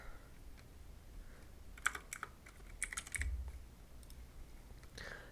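Short bursts of typing on a computer keyboard, with quick light clicks clustered in a few spurts, close and quiet over a faint steady background hiss.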